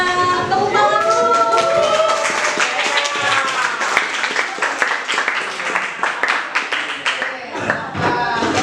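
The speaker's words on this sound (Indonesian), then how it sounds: "Tepuk tangan dulu." Students in a classroom clap for a classmate, lively scattered clapping from a small group, with voices talking and calling out over it throughout.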